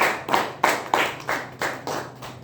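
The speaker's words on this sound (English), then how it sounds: "Round of applause to both of them." A Toastmasters meeting audience claps after a speech and its evaluation, the claps coming in a loose, moderately paced rhythm of about eight strokes, close and fairly even, with no talk over them.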